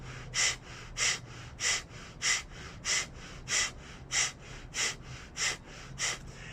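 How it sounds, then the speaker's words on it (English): Forceful pranayama breathing with exhales pushed out sharply, a steady run of about eleven strong, evenly spaced breath bursts, close and loud with a faint low hum underneath. "Keep breathing like that, pushing your exhale out, pulling your belly in towards your spine as you exhale."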